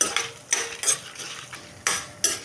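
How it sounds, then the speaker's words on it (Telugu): Coriander seeds, urad dal, chana dal, cumin and fenugreek dry-roast in a pan over a low flame for gongura chutney, with a spoon scraping and tossing them in several separate bursts and quiet pauses between. "ధనియాలు మినపప్పు పచ్చిశనపప్పు జీలకర్ర అట్లాగే మెంతులు ఇవన్నీ వేసేసుకొని వేయించుకుందాం"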